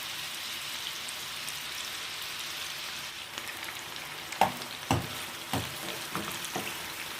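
Kefta meatballs frying in a pan make a steady, rain-like sizzle. Partway through come several sharp clacks of handling, spaced irregularly and heard close up.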